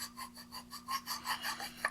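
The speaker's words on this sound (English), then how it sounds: "I will just take a piece of wet or dry sandpaper" A mandolin fret being sanded with wet or dry sandpaper, giving a faint, close, rhythmic rasping as the paper strokes back and forth about eight times, with no voices.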